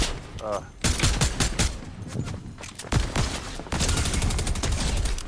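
Automatic gunfire in Fortnite, loud close bursts of rapid shots broken by short gaps, with players talking over the shooting.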